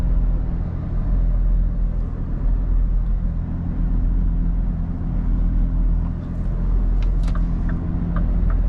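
Scania V8 truck, loaded, climbing on snow and ice, a deep steady engine drone with heavy low rumble as it pushes to gain speed, a few faint clicks near the end.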